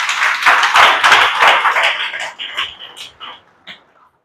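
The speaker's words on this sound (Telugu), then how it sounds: "కొట్టు గట్టిగా చప్పట్లు." Loud, dense clapping from a church congregation, rapid and overlapping for about two seconds, then thinning into a few scattered claps that fade out near the end.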